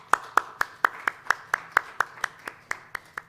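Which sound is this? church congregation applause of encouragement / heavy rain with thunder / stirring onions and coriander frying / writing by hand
church congregation applause of encouragement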